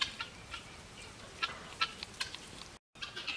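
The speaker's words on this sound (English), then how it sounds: "we have one duck from him. It's a big duck." A large Muscovy duck drake on a farm gives soft, scattered hissing and clucking calls, a few brief bursts spaced irregularly over quiet background.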